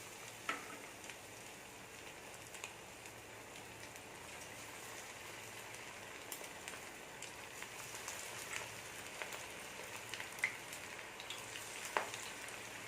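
Marinated prawns frying in hot oil, a continuous medium-loud crackling sizzle with scattered pops and spits, steady throughout and without speech.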